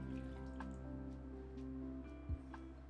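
Water from a tea bowl poured out and dripping, soft trickling with a low hum in the background and one brief splashy gulp near the end.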